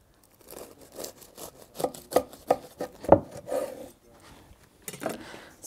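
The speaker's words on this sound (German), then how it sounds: "Wir schneiden es mal an." A knife saws through a brisket sandwich in a series of short crunchy strokes, a close, quiet scraping and crackling of bread crust with brief pauses between cuts.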